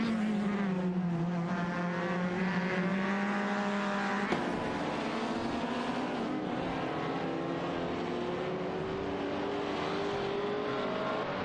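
Race car engines in an AI racing video game, including a Porsche 904 and an Alfa Romeo, drone continuously at high revs, with rising and falling pitch as cars duel and shift, loud and unbroken.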